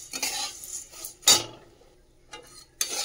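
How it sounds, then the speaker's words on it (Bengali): Flattened rice (chira) being fried and stirred in a pan makes a few sharp scraping clinks of a utensil against metal, with a faint sizzle between the strokes, close and quiet. "দিয়ে এবারে ভালো করে লাল করে ভাজবো"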